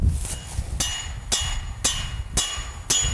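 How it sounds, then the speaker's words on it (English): A hammer drives stakes into the corners of a hunting blind tower's legs outdoors, landing six sharp, evenly spaced strikes close by. "using the hammer, we're gonna drive the stakes in on all four corners of the legs"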